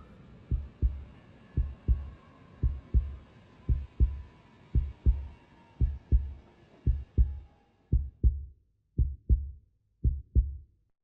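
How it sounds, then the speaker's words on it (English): Heartbeat opening a pop song intro: a steady double-thump pulse, about eleven lub-dub pairs, deep and close, over a faint sustained hum that fades out partway through. "Heartbeat."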